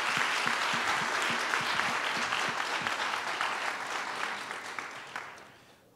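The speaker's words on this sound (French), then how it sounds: "Bonne belle applaudissement" Applause from the audience at a public pitch event, full and steady at first with a few louder claps, then gradually thinning and fading out near the end.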